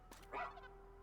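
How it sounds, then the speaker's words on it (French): A robot dog companion in the Xbox video game ReCore gives a single short, faint bark with a brief whimpering tail, heard alone. "on comprend ce que dit le chien en plus"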